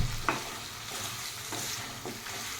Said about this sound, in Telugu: మంచిగా ఫ్రై చేసుకోవాలి రెండు మూడు నిమిషాలు మంచిగా ఫ్రై చేసుకోవాలి